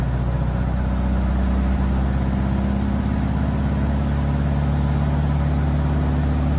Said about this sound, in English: It sounds like that engine is definitely working to get up